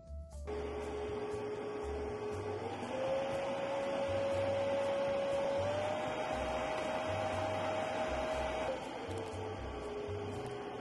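A pet grooming kit vacuum with a 2.5 L dust bin runs steadily at suction setting 3, giving a continuous motor whine and hum that steps up in pitch partway through before dropping near the end, with no voices.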